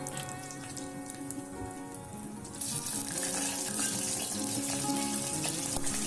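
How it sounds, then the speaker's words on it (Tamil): Mustard seeds and urad dal crackle and sizzle in hot oil while tempering, a dense busy frying hiss that grows louder and brighter partway through, with no talking. "1 ஸ்பூன் அளவுக்கு கடுகு உளுத்தம் பருப்பு போட்டு தாளிச்சிக்கலாம்"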